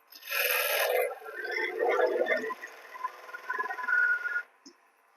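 A tool bevel rubs against spinning wood on a lathe during woodturning, giving a close, raspy scraping that starts strong and continues in uneven strokes for several seconds before stopping.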